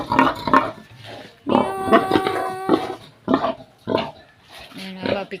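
A pig on a relative's farm grunts and oinks in short bursts, close up, while people talk nearby and one voice makes mew sounds.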